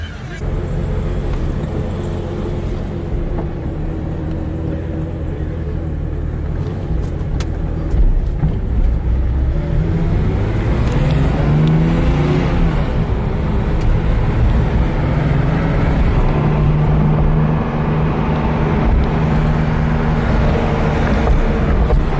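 Car engine warming up at a Cars and Coffee gathering, a steady loud idle drone holding for the whole stretch with slight shifts in pitch, while a voice speaks intermittently over it.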